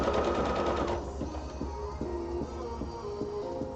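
Sewing machine running a seam with a super slim seam allowance, a steady close mechanical hum with a faster whir at the start that settles into an even rhythmic stitching pulse.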